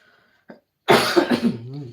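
A person who is unwell coughs: a short, harsh burst that is close and fairly loud, followed by rougher throat and voice sounds, after a brief quiet faint sound.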